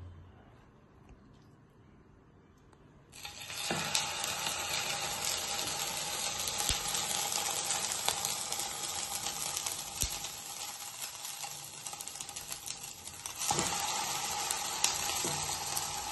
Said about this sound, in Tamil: பிரெட்டை துவச்சு போட வேண்டியதுதான்